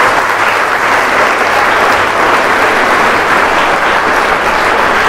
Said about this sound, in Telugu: ఇది నేను చెప్పిన తర్వాత చప్పట్లు కొట్టని మానవ జాతి చరిత్రలో లేదు